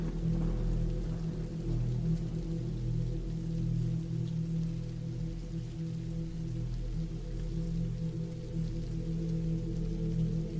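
Rain falls in a steady, continuous wash, soft and even with no distinct drops, over a low constant rumble.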